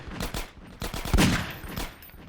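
Revolver gunfire in Half-Life 2: Episode Two: a heavy, booming shot at close range with rumbling echoes and scattered softer impacts around it.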